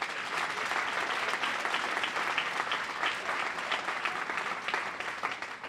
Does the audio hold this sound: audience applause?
yes